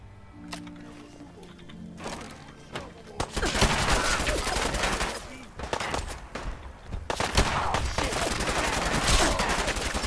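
Fallout 4 gunfire erupts in rapid, loud bursts and sustained volleys after a quiet start, with a voice briefly heard underneath.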